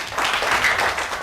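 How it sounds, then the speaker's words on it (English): A primary-school class clapping for their writer of the week, a brief burst of many small hands applauding together, fairly close and lively. "Give him a clap."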